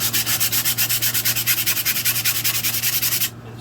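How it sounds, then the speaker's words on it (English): Rapid rhythmic rasping of sandpaper rubbed back and forth on a 1970s five-band radio, close and loud, about eight strokes per second, stopping abruptly near the end. "And start sanding."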